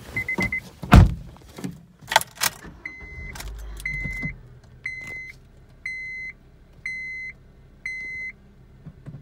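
A 2010 Honda Civic with a manual gearbox starts up: keys clatter and the door thumps, then a short low crank and rumble. A steady run of evenly spaced electronic warning chimes follows inside the cabin.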